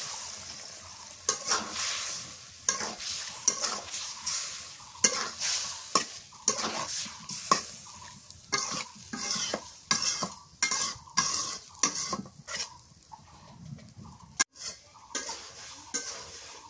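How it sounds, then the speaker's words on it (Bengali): Snakehead fish head and tail sauté in a pan for a pumpkin curry, with a continuous frying hiss broken by frequent sharp scraping strokes and clinks of a spatula against the metal, loud and close. "মাছের মাথার লেজ কষানো হয়ে গেছে"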